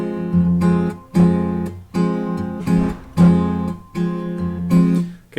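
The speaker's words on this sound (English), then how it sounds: "I'm going to pluck all those together" On acoustic guitar, thumb and three fingers pluck strings together in an even fingerpicked pattern, about six clear chord plucks that ring briefly between strokes, played close with no speech.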